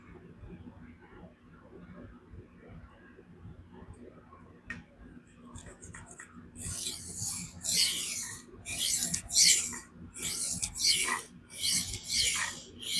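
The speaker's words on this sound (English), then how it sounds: "now we're going to go ahead and raise a burr" Spyderco Magnamax knife sharpened on a 400 grit vitrified stone, a run of distinct scraping strokes in a steady back-and-forth rhythm, close and crisp, following a quieter stretch with soft handling noise.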